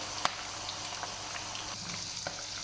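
Chicken frying on a medium flame with green chilli, ginger and garlic for Balochi chicken tikka karahi, a steady close sizzle and bubble with a sharp clink near the start and occasional soft stirring.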